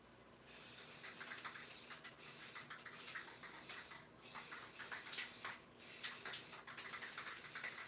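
A spray can misting paint onto cups, several sustained hissing bursts separated by brief pauses, close and fairly quiet with no talking.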